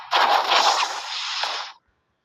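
Gunfire in the video game Murder Duels, a single dense, harsh burst lasting under two seconds that cuts off abruptly into silence, loud and close with no voices.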